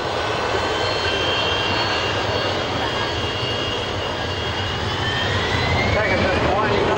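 The Pegasus engine of a Harrier jet at an airshow spools up, a loud, broad roaring whine with rising tonal streaks over a steady rumble, heard from a distance in open air with a commentator talking over it.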